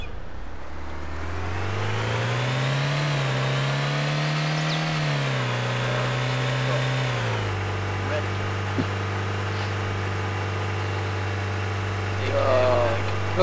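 Car engine in the video game DayZ revving up and easing back, a steady harmonic drone that climbs then settles to a lower hum, with game sounds and a small knock near the end.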